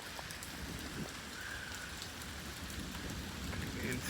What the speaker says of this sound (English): It is a severe thunderstorm warning